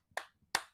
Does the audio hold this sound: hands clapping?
yes